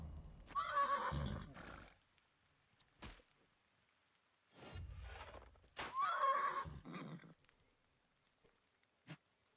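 Horse neighs twice in the video game Wartales, each whinny loud and drawn out, with a few soft hoof and impact sounds between.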